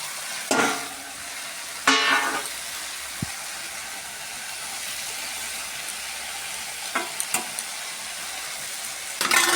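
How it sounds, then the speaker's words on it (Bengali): Fish frying in a kadai (wok) with spiced oil of chilli, cumin and turmeric powder sizzles steadily nearby, broken by a few sharp crackles and clattering bursts from handling. "এবার আমি মাছগুলো দিয়ে দেবো কড়াইয়ের উপরে"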